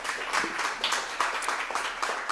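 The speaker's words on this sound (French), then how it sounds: "Merci, applaudissements pour Sylvie Mousset" An audience at a solidarity mobility awards launch gives Sylvie Mousset a round of applause: steady, dense clapping from a moderately sized crowd at even loudness throughout.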